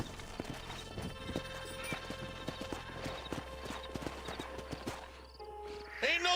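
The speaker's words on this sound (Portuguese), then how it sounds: "Peraí, tem que ir de cavalo, né?" Horse hooves clip-clop in a steady trotting rhythm within the Red Dead Redemption game, fairly close and distinct over low ambient rumble, with a brief whinny-like sound near the end.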